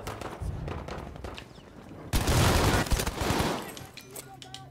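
Dense, rapid gunfire from a gun in the shooter game Battlefield 5, a loud sustained burst dominating the middle of the clip, with scattered shots and battle noise before and after.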